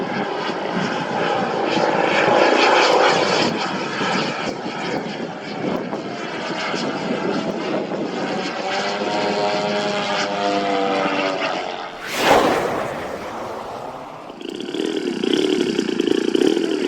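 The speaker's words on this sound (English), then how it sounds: "We've got a Corsair, Red Bull. Sit back, relax, and enjoy the flights." A Red Bull Corsair RC model warplane from a Ziroli kit flies at a warbirds airshow over Fredericksburg, its engine droning and buzzing loudly as it makes passes with pitch shifts. A burst of crowd noise breaks in briefly near the end.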